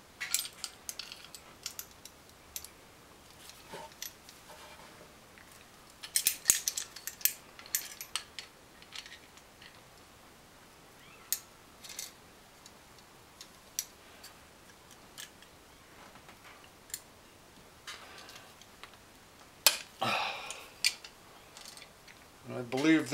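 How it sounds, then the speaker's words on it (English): Faint, scattered clicks of a 3/8 ratchet on an extension come from deep in the engine bay as it works on the alternator belt tensioner of a Mazda B4000 / Ford Ranger, with irregular metallic taps and pauses. "Just make an extension for the old 3/8 ratchet. So I can get down to that tensioner."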